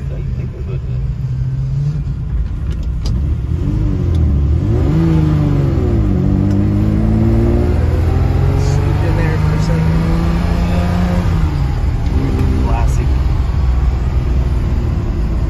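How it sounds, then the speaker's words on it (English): A Ferrari 330 GT 2+2's V12 engine revs and accelerates up and down repeatedly on a cold Colorado morning, loud and rumbling close by, with speech faintly mixed in. "Classic V12 sound right here."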